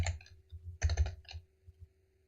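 Computer keyboard keys tapped in short, uneven bursts of crisp clicks, close and fairly quiet, with brief pauses between runs of typing.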